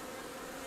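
Honeybees buzz at a colony hive during April hive work, a dense, steady, close droning hum that fills the short moment without pause.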